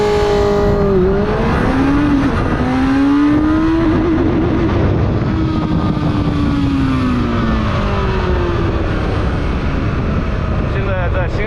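A mid-displacement four-cylinder sport motorcycle of over 100 horsepower, built by a BMW contract factory, accelerating hard with traction control switched off: a loud continuous engine note climbs and drops through gear changes under heavy wind roar.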